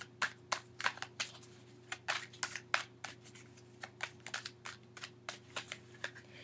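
Tarot cards are shuffled by hand in a quiet room, a rapid series of crisp riffling flicks and soft slaps repeating at an uneven rhythm over a low steady hum.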